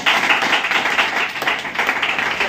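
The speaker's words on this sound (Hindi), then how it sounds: "एक बार तालियां दें कंपनी को।" An audience claps together at a business meeting, a dense burst of hand claps with a steady patter, fairly loud and without talk over it.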